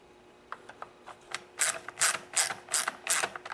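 A ratchet wrench clicks as it tightens the two 5/16 nuts holding the carburetor on a STIHL chainsaw (017/MS170/018 type), a few light ticks followed by steady bursts of rapid ratcheting, close up and alone.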